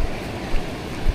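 Big sea waves surging onto the beach at Dinahican, Infanta, Quezon during Typhoon Uwan, a steady roaring wash of surf and wind buffeting the microphone, with small swells of louder water about every half second.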